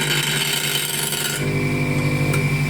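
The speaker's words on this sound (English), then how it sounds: "I ground my chisel, make sure it's sharp." A woodworking chisel is ground sharp on a grinder, a loud steady rasping scrape with a constant motor hum that shifts tone partway through, no voices.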